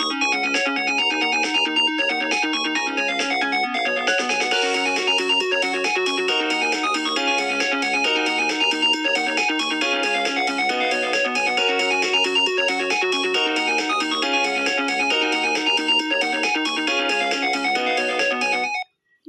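A Nokia ringtone, a tone long used on older Nokia phones, plays as a bright electronic melody with layered synth notes, steady and loud throughout and alone, cutting off abruptly at the end.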